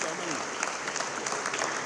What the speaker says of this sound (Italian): Applausi per i big del Consiglio